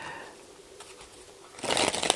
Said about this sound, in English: When I'm pretty sure I've gone past their card, I can just do a sloppy overhand shuffle